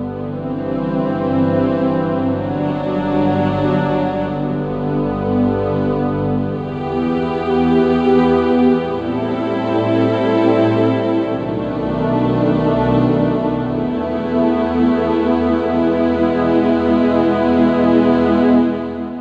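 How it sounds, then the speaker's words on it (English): A sustained string-orchestra patch played on a Kawai DG30 digital grand piano, with smooth chords shifting slowly and swelling, continuous with no talking. "this is the sound of the string orchestra."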